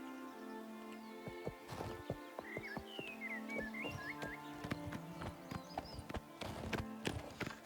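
Hooves of a black horse from Shadenhall clip-clop steadily in the video game Oblivion Remastered, over a chirpy bird-filled outdoor ambience, with no talking.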